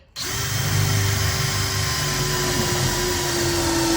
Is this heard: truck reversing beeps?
no